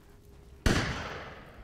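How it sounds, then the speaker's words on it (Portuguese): A single sharp, loud blast cracks out suddenly after a quiet stretch, then rings off in a long fading tail, a gunshot in Resident Evil Village. "Ah, eu vi um tiro."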